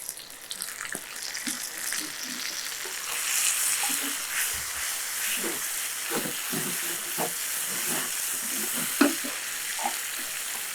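Steady loud sizzling of potatoes frying in a pan, with occasional stirring scrapes and clatters over the continuous hiss.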